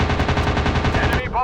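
Steady, rapid rattling machine-gun fire from a WW2 fighter plane in the dogfight game Warplanes, loud and continuous with an engine drone beneath and a brief tonal whine at the end.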